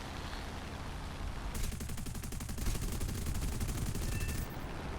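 Rapid machine gun fire from a Ki-61-II fighter in the air combat game War Thunder: a dense, steady burst rattles for about three seconds over a constant engine drone, with no talking.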